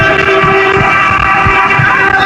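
A sustained, steady vehicle horn blares continuously over rumbling road noise, loud and close, with no break across its length, clearing traffic on the way to a hospital.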